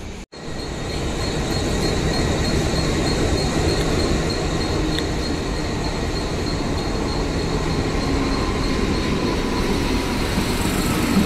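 A Vande Bharat Express train at Dadar station produces a loud, continuous rumble with metallic wheel squeal that runs for about eleven seconds after a brief cut at the start, with no voices over it.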